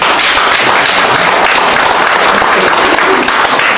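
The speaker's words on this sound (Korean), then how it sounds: "그 노고 헌신에 대해서 다시 한번 감사의 큰 박수" An audience at a Korean civic movement founding ceremony breaks into big, sustained applause, a dense wash of many hands clapping at full loudness with no pause.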